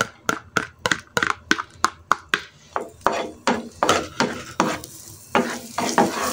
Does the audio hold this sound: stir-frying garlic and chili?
yes